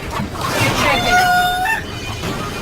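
A rooster crows once in a rising then sustained call amid outdoor commotion during a Survivor challenge on an island, loud and fairly close, with voices and movement around it.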